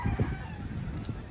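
Chickens and pullets at a gamefarm range area in Tanauan, Batangas cluck and call softly at a moderate distance in a short, busy stretch of low fowl sounds.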